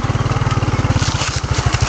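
Single-cylinder motorcycle engine thumping steadily at low revs while riding on a rural road, loud and close with an even pulsing rhythm throughout, no talk.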